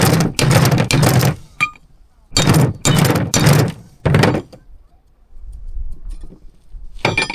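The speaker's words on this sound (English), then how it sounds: "So now I've used the old outer race to knock that in" An old outer race hammers a new bearing race into a rusty trailer wheel hub from a commercial fishing trailer. The metallic knocks come close and sharp, in quick groups of two or three, with short pauses between.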